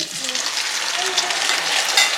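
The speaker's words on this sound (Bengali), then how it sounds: "এই পেস্টটা আমি পুরো অ্যাড করব, দেন ভালো করে কষিয়ে নেব।" Chicken pieces fry in a spice paste in a pan, a steady close sizzle with faint scraping as the mixture is stirred.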